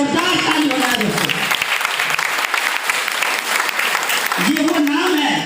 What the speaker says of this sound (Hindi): मिस्टर सुमन श्रीवास्तव सर के लिए जोरदार ताली हो जाए दोस्तों